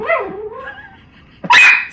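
A dog barks loudly in a room, with a whiny, yipping vocal opening and then a sharp, close bark near the end.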